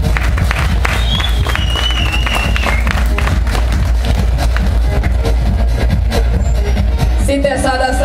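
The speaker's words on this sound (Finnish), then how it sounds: "Annetaan aplodit Suville." An audience at a Finnish event claps and cheers for a woman named Suvi, a dense, loud and continuous burst of applause with crowd noise.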